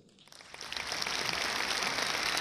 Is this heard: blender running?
no